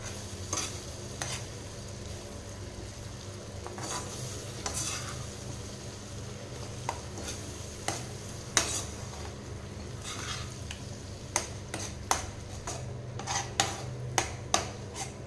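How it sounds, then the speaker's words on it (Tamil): A spoon scrapes and clinks against a pan while ground masala is stirred into a bubbling capsicum gravy, with steady soft sizzling beneath irregular sharp taps that grow more frequent toward the end; no one speaks. "இப்போ வந்து நம்ம அரைச்சி வச்சுருக்கிற மசாலா சேர்த்திக்கலாம் இப்போ கலந்து விட்டுறலாங்க"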